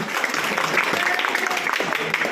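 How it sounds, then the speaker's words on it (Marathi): An audience claps for students at a parenting session, a dense and steady round of applause nearby that fills the short moment. "जोरदार टाळ्या या विद्यार्थ्यांसाठी."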